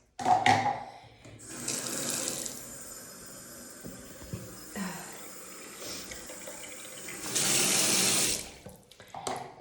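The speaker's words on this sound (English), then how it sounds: "quite literally it gets pushed down the drain, which is pretty gross" Fluid from a post-surgery JP drain bulb is emptied down a sink drain, heard as two short spells of running, splashing liquid, one early and one stronger near the end, with quieter handling noise between.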